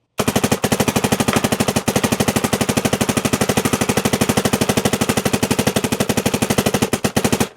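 A Dye MXR paintball marker firing in a long, rapid automatic burst, a steady stream of sharp, evenly spaced pops heard close and loud for several seconds, with a couple of brief pauses.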